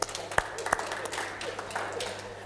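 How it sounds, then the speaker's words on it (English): Brief, fairly faint round of applause from an audience at a celebration event, a few sharper claps standing out over a soft background murmur. "Then please give your hand a round of applause."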